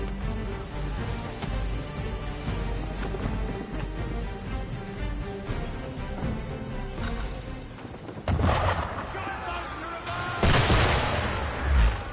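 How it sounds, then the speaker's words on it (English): Cannon or gunfire aimed at a ship in Assassin's Creed III rings out as heavy booms late in the stretch, two loud bursts that break through continuous rumbling ambience and layered game sound. "Why is it shooting at us?"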